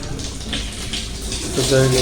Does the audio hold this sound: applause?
no